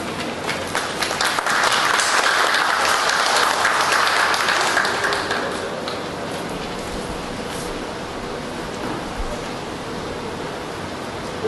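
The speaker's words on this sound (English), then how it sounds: "Honorable, a round of applause," Audience applause for Zambia's Minister of Mines and Mineral Development, a dense wash of clapping that is strongest at first and then thins into a softer, steady patter.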